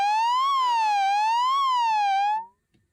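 A chorus pedal feedback loop makes a loud siren-like tone rising and falling slowly in two sweeps, then cuts off abruptly, followed by faint handling noises.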